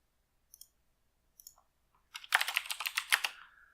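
A few isolated key clicks, then a quick burst of computer keyboard typing, crisp and close in a quiet room.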